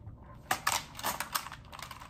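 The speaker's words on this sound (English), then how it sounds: "I'm here with this white mechanical gaming keyboard" A compact 75% white wired mechanical gaming keyboard being typed on, producing bursts of crisp, clacky keystrokes close to the microphone, loud and uneven in rhythm with brief pauses between flurries.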